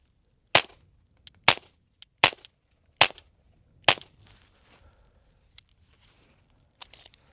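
Five suppressed .22 rifle shots through a HuxWrx Flow 22Ti suppressor, sharp cracks spaced roughly a second apart, each with a short tail, followed by faint clicks and handling noise.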